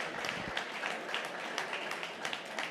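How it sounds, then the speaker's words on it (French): Conference attendees give quiet, fairly distant applause, a soft even patter of many hands lasting a few seconds. "On peut les applaudir."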